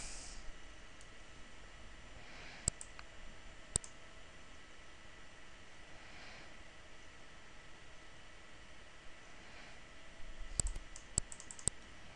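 Computer mouse clicks, a few sharp, isolated clicks early on, then a quick cluster of several more near the end, faint over a low hiss, with no talk.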